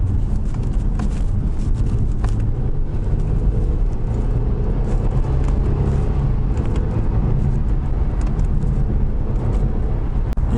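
A 2016 Genesis G330 gasoline sedan accelerating with paddle-shift gear changes, heard as a steady engine drone and road noise from inside the cabin, constant and fairly loud with no talk.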